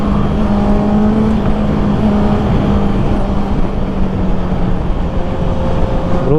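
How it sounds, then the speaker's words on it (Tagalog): Several big motorcycles, sport and adventure bikes plus cruisers, ride past on a road in Zambales, a steady loud engine roar with a low drone throughout and no talk. "Other big bike groups."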